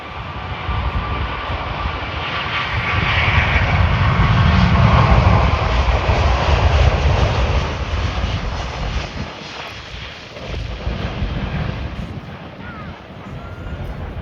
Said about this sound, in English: Once the Emirates Airbus A380 departs